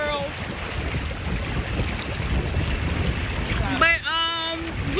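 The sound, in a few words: wind at the beach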